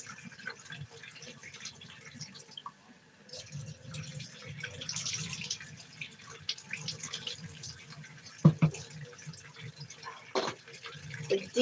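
Hands being washed with soap under a running tap at a kitchen sink, a steady, fairly quiet stream of water with occasional sharper splashes and clinks.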